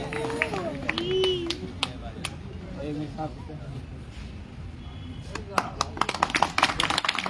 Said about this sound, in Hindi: बच्चों की तालियों की गड़गड़ाहट के साथ